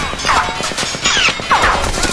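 Rapid bursts of gunfire and impacts from the video game Crysis 3, several loud close shots in quick succession with whooshing sweeps, continuous over about two seconds.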